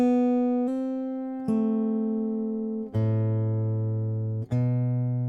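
Slow fingerpicked guitar notes from the third bar of a song intro ring clearly and alone, about five plucks that each sustain and fade before the next.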